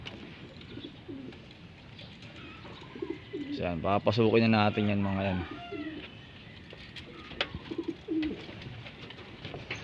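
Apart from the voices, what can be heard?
pigeons cooing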